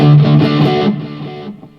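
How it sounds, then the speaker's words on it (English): An electric guitar played through a Fender reverb pedal rings out in a bright, distorted chord that swells, then slowly decays into a reverberant tail, alone and up close. "this is a Fender reverb pedal"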